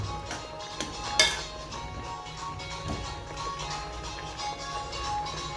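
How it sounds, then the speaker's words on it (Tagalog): A spoon stirs a pot of Ilonggo laswa vegetable soup with eggplant, making quiet scattered clinks and one sharper knock against the pot over a soft kitchen background. "Yan, hahaluin na naman natin."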